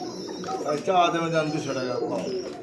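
Pigeons at a pigeon farm coo in a steady low murmur, with a voice talking over the birds throughout.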